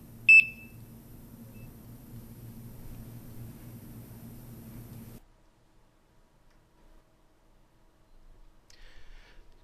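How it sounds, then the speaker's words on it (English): MX6 gas detector sounding its high-alarm dual tone: a sharp, loud electronic tone at the very start over a steady low hum, then the hum cuts out midway and near silence follows. "Rather than being a single beep, you'll hear a dual tone."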